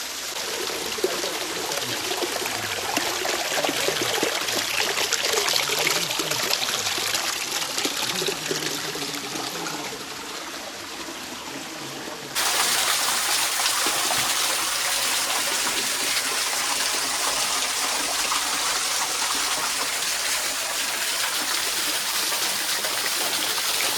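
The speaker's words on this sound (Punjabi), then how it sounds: "ਪਹਾੜੀਆਂ ਦੇ ਵਿੱਚੋਂ ਪਾਣੀ ਫੁੱਟਿਆ ਹੋਇਆ ਆ" Spring water gushes and trickles out of the hills near Hoshiarpur, a constant close stream of flowing water that dips briefly before resuming at full strength, with no voices.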